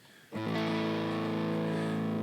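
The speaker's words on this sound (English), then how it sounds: "it breaks up really nice and it's got a nice kind of flat kind of distortion sound" A distorted electric guitar chord through a Hotone Ampero Mini with Tube Screamer overdrive strikes and rings out, thick and overdriven, sustaining loudly with a gritty buzz.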